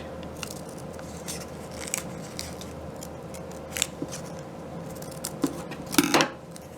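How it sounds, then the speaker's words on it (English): Scissors snip through folded paper while a homemade spectroscope is made, a series of small, quiet crisp cuts and scrapes at an irregular pace, close by and with no one talking. "so I can cut this rectangle"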